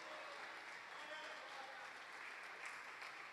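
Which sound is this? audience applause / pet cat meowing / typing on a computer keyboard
audience applause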